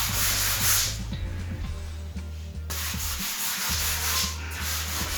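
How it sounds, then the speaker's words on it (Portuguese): A 220-grit abrasive sponge scrubs over a painted wooden side table in steady back-and-forth strokes, a close, continuous gritty rubbing with a brief lighter pause midway. "vou proceder um lixamento com a esponja abrasiva número 220"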